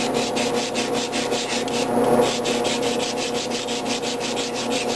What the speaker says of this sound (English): I'm just going to make circles just so I don't have any sanding marks going directly across.